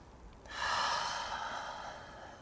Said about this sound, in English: So just taking another breath here.